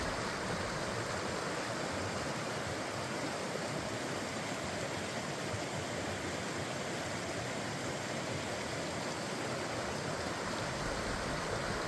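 Clear Creek rushing through a canyon, a constant broadband wash of flowing water, steady and unbroken with no voices.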